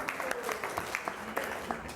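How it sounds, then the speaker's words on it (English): A few listeners at a spiritual gathering in Vrindavan clap sparsely, around ten light, scattered claps over two seconds, faint and close within a quiet room. "Applause."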